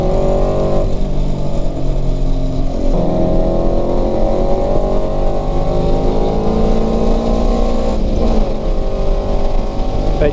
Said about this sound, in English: That Evo just shot flames.